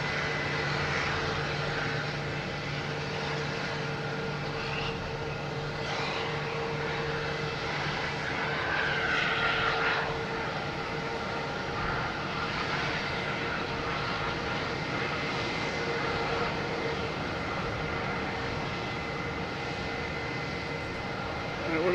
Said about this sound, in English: We have a Porter heading to Toronto, Dash 8.